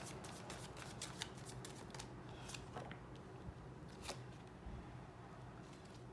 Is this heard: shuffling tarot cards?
yes